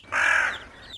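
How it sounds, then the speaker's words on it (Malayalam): A crow in a Malayalam cartoon story gives a single loud, harsh caw, clear and close, with no talk over it. "കാക്കച്ചി"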